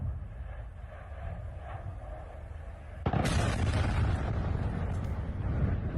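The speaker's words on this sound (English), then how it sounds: "It's one of those change the color of the skyline explosions." A distant blast from a large ammunition dump hit during war, a sudden broad rumbling roar that breaks over a low steady background hum and sustains loudly afterward.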